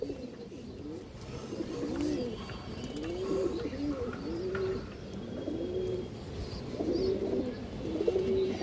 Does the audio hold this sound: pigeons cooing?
yes